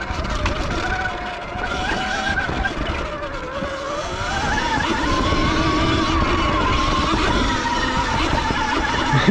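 An X160 electric bike rides over rough ground, carrying a steady roar of wind and tire noise with a whining drive tone that rises and falls, loud and continuous throughout.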